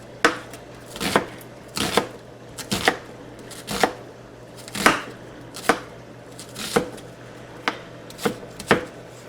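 A knife chops onions on a cutting board while preparing fried rice, giving a steady series of about a dozen crisp, close knocks at a brisk, fairly even pace with no talking.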